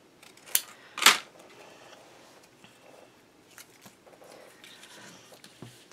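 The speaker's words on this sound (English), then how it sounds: "I'm just gonna take my scissors." Scissors snip paper for a Heartfelt Creations floral craft album: two sharp cuts early on, the second louder, then quiet handling rustles and small taps.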